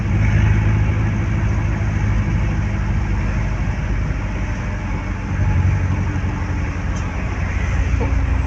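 Heavy rain pours over a jammed road while car engines idle and rumble, making a dense, steady wash of noise that stays loud and even from start to finish.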